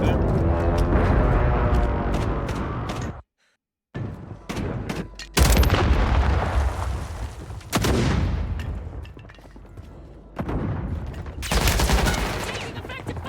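Heavy video game gunfire in a close firefight: dense bursts and booming shots fill the whole stretch, broken by one brief silent gap, loud and continuous.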